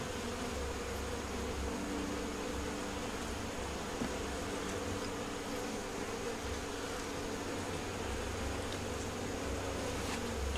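A dense, steady hum of honeybees swarms around a beehive frame holding honey, nectar and brood, loud and unbroken throughout with no talk.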